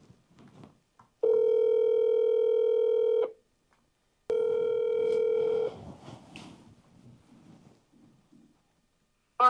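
A telephone line plays two long steady ringback tones separated by silence while a call is forwarded, followed by faint line noise and clicks.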